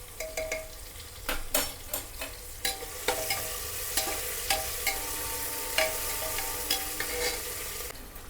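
Ginger-garlic paste sizzles steadily in a hot pan for a paneer pulao while a spoon stirs it, scraping and tapping against the metal in an irregular rhythm, close and continuous.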